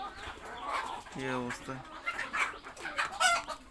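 A market-bought pigeon that seems to have a cold calls inside a pigeon house, a short, low, tonal burst in the middle while a person talks nearby.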